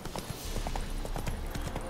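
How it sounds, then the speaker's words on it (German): Rapid rhythmic hoofbeats of a galloping horse in the video game The Witcher 3: Wild Hunt, steady clip-clop pulses over a dense, noisy background. "Und im Galopp geht's weiter"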